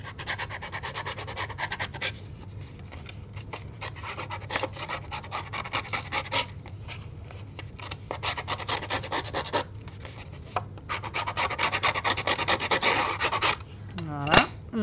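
Dry, rasping strokes of kraft card stock being rubbed along its edges to distress it, a close and steady back-and-forth scraping in uneven bursts with no talk.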